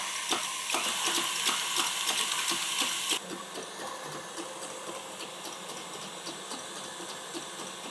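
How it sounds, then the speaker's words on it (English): Egg whites being beaten with a mixer until frothy for a coconut dacquoise, a steady loud mechanical whir with rapid rattling beats that drops to a lower, quieter whir partway through, no talking. "I'm going to beat this until the egg whites froth up"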